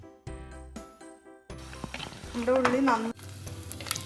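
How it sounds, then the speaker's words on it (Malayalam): Onions frying in coconut oil in a clay pot for a Kerala-style crab kurma: choppy stirring knocks give way to a louder sizzle with grating scrapes, then the frying settles to a steadier hiss. "ഉള്ളി നന്നായി പൊരിഞ്ഞിട്ടുണ്ട്"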